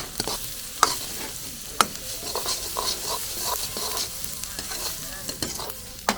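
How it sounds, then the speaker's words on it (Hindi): Vegetables and onions tossed and fried in oil on a hot tawa in an outdoor wedding kitchen, a steady broad sizzle broken by sharp clanks of the spatula against the iron, close and fairly loud. "सब्जी को ऊपर उड़ा के वापस से तवे में डालो"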